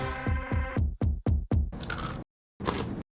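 Homemade crispy snack seasoned with garlic and rosemary being bitten and chewed up close, a run of sharp crunches followed by dense crackling chews, a brief pause, then another burst of crunching.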